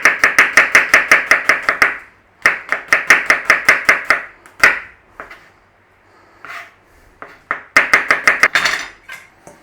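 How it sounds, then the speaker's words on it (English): A knife chops an onion on a cutting board in quick, evenly spaced bursts of sharp knocks, with short pauses between runs; close, loud and without speech. "Need to slice up an onion."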